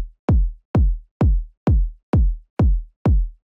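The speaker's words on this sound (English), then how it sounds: "Most club music has a four on the floor pattern, that is a kick every beat." A four-on-the-floor club kick drum pattern: eight deep, punchy kicks land at an even, steady pulse with a short boom after each, alone and loud, with no other instruments.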